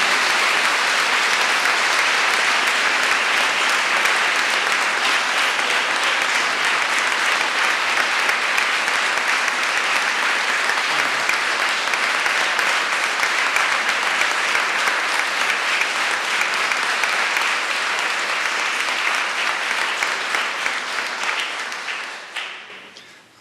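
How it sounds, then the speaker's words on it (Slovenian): An audience at a 2011 Renewal in the Spirit gathering in Pragersko applauds to welcome the Archbishop of Maribor, Dr. Marjan Turnšek. The clapping is loud and sustained for over twenty seconds, then fades away at the very end. "z aplavzom pozdravimo današnjega pričevalca, našega mariborskega nadškofa ordinarja, dr. Marjana Turnška"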